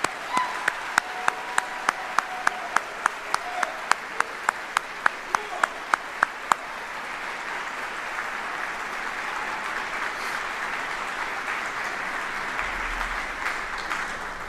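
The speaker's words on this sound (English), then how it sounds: "please join me in a round of applause for these 28 fine, outstanding soldiers" A large audience claps for 28 retiring Army soldiers at a Department of the Army retirement ceremony, starting with sharp isolated claps that swell into sustained, steady applause, which fades near the end as ambient room noise remains.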